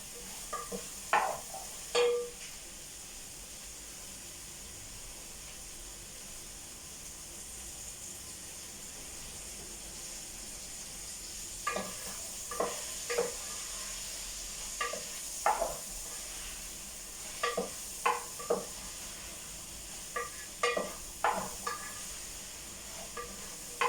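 Ndongo ndongo stewing in a cooking pot is stirred, scattered scraping knocks over a soft sizzling hiss, in short irregular bursts with quiet stretches between.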